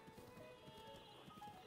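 Rhythmic clip-clop of horse hooves as a horse is ridden in a Zelda video game, steady quick hoofbeats under soft game music at low volume.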